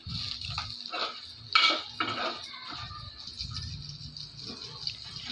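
A spoon scrapes and clinks against a pan while fried ingredients and curry leaves are stirred together. The sounds come as close, uneven metallic strokes, one sharp clank among them, with soft sizzling underneath.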